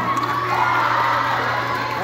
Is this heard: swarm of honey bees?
no